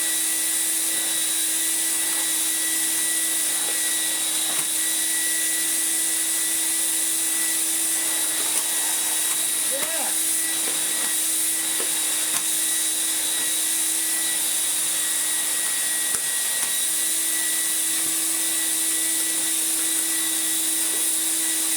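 Numatic George GVE370 vacuum cleaner from 1995 with a heavy floor tool, a loud, steady close motor drone with a constant whine running the whole time, with faint knocks as the tool moves.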